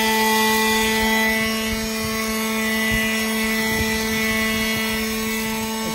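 A Ryobi One+ 18 volt electric leaf blower runs continuously at close range, giving a loud, steady whine with strong tonal harmonics over an airy rush.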